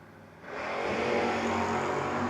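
Drag racing cars, a Camaro and a Dart, roar down the track in a No-Box 660 shootout, engine noise swelling from quieter to a loud sustained rumble, with no talking.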